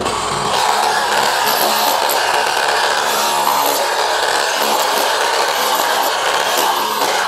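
A loud, continuous harsh hammering and grinding of a cordless Bosch GBH 187-Li rotary hammer chiseling, steady throughout with no pauses.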